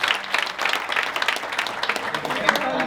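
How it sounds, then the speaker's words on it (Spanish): An audience at a human rights event for Venezuela breaks into dense, continuous applause, many hands clapping together close and steady for several seconds. "un aplauso para todos nuestros jóvenes"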